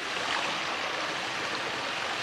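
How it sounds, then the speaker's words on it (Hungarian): Heavy downpour beating steadily against the outer wall of a termite mound, a dense continuous broadband rush of water with no pauses, close and fairly loud throughout. "Az eső kitartóan veri a vár külső falát."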